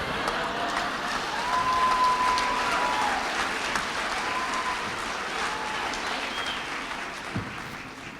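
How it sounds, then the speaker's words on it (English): Large audience at a film event cheers and applauds in a sustained, dense wash of clapping with raised voices mixed in, holding steady and easing slightly toward the end. "I hope I didn't hear any laughing among that cheering."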